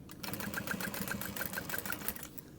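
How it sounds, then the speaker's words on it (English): A sewing machine stitching around fabric pieces for a small quilt block, a steady close mechanical whir with a fast even needle rhythm, running throughout. "As I am stitching"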